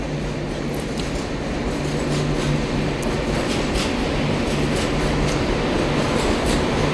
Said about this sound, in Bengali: জানি না এটা কোন ট্রেন যাচ্ছে